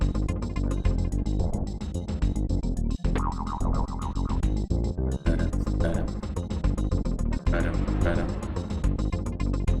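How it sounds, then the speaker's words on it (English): Busy SNES video game music with a driving synth beat resembling the Knight Rider theme plays loudly throughout, with a few brief dropouts and a voice talking over it. "Sounds like this is trying to be the theme to Knight Rider."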